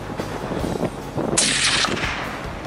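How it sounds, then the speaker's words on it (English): A single rifle shot cracks loud and close during a ram and red deer hunt outdoors, standing out briefly above a rustling background. "Good shot."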